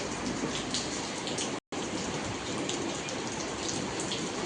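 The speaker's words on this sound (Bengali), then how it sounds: "বৃষ্টি দেখছেন, বৃষ্টির পানি পড়তেছে সকালবেলা।" Steady rain pours down on a dairy farm in the morning during milking, a loud, even hiss of drops on surfaces that continues throughout, broken only by a brief cut, with no talking.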